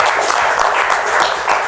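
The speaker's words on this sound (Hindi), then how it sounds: "शफकत चीमा साहब के लिए तालियां" Brief burst of audience applause on a talk show, dense continuous clapping from a crowd.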